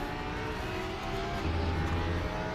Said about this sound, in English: When you brake hard into the ABS,